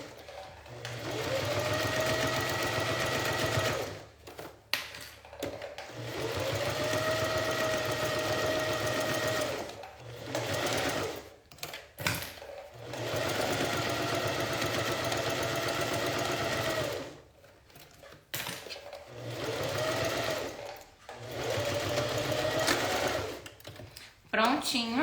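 A sewing machine stitches along the side of a fabric blanket piece for a simple zip pouch, whirring steadily in long runs with brief stops and restarts, close and loud.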